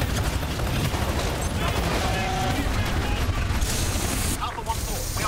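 Dense, continuous gunfire and explosions from the video game Titanfall 2, a loud sustained barrage of shots and booms with mechanical clatter that dips briefly near the end before resuming.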